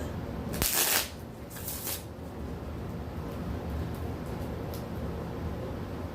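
Tarot cards are shuffled in a couple of short, crisp riffling bursts near the start, then the sound settles into quiet background hiss.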